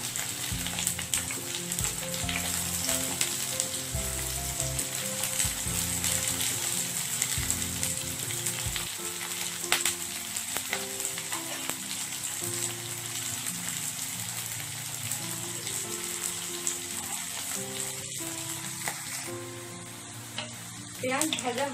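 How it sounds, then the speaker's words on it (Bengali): Chopped onions fry in a pan for a Bengali chicken dish, giving a close, steady sizzle that runs unbroken for over twenty seconds, with stirring and scraping sounds throughout. "এরপর কেটে রাখা কুচুনো পেঁয়াজ দিয়ে দেব।"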